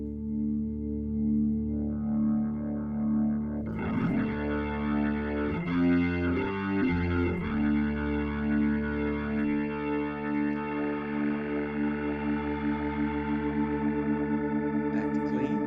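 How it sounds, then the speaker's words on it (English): An organ tone fed through a Neo Instruments Ventilator 2 rotary speaker pedal picks up a gritty drive, like an overdriven Leslie cabinet, as sustained chords swirl and shift with no voices present. "the drive will add a little bit of distortion, like overdriving a Leslie"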